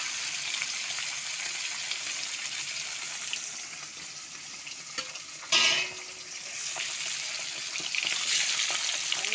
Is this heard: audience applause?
no